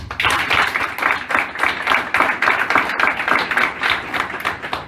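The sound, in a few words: applause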